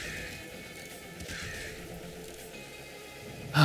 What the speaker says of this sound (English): Just some crows.